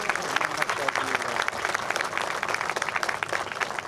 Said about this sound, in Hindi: आप सबकी तालियों की यहाँ पे आवाज़